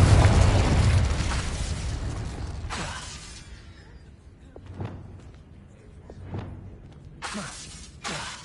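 A Confringo spell blast in a Harry Potter video game: a loud shattering burst that decays over a few seconds, followed by softer thuds and a couple of sharp crackling hits near the end.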